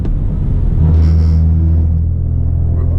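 A BMW F30 328i M Sport drones steadily from the cabin while driving on a mountain road, a deep, continuous engine rumble with a slight rise in revs midway, loud and close with no voices.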